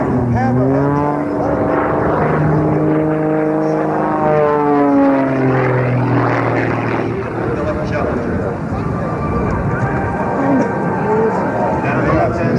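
A propeller airplane performs a hammerhead turn at the 1994 Rhode Island Air National Guard air show, its engine droning and sweeping in pitch as it climbs and dives, heard under continuous commentary from an announcer.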